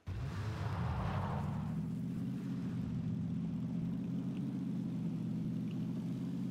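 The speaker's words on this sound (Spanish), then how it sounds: "Escucha un coche, ¿eh?" Vehicle engine in PlayerUnknown's Battlegrounds, a steady mid-low droning hum that rises in pitch and swells as it approaches, then holds at a fairly constant level.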